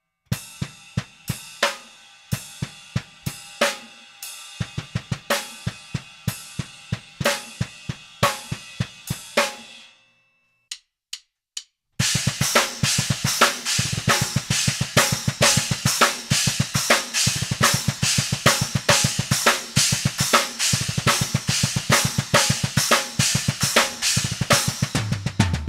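A drum kit plays a song part: sparse, evenly spaced hits, a brief pause, then a dense, steady groove with crisp snare and cymbal hits, loud and close.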